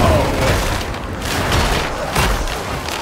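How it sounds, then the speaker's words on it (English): A grenade goes off in Warhammer 40,000 Darktide amid ongoing combat, a dense rumbling boom blending into sustained battle noise with bursts of gunfire, loud throughout the short stretch. "Let this grenade obliterate our foe!"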